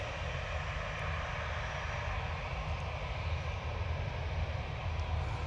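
A Lufthansa Airbus A321 jet departs Manchester Airport for Frankfurt, giving a steady, distant engine roar with a low rumble that holds evenly throughout, with no voices.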